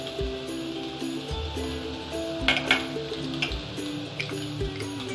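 Manchurian ingredients are mixed with sugar and Chinese salt in a hot pan, giving repeated rhythmic scraping and tapping strokes of a utensil over a low frying sizzle, close up, with a brief clatter midway and no speech.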